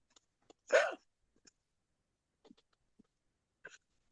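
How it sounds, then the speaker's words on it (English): One loud, abrupt hiccup close to the microphone, surrounded by a few faint clicks and breaths in a quiet room. "Apart from sudden hiccups"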